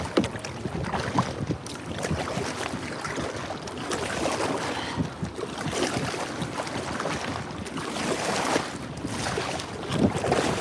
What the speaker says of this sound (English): Having to fight the current and the wind.